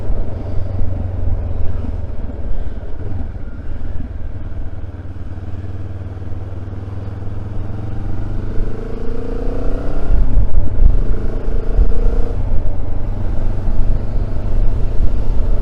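A Benelli TRK 702 motorcycle rides along a rough road, its engine droning steadily and then rising in pitch as it accelerates, with wind and road rumble throughout.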